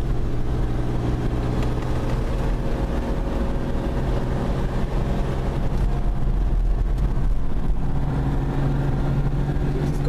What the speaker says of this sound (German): Das ist Gas, ne?